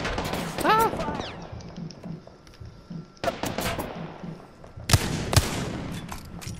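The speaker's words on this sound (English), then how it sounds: "The enemies are shooting at me." Enemy gunfire in a video game: sharp shot bursts crack at intervals, loudest near five seconds, mixed with game effects and a faint voice.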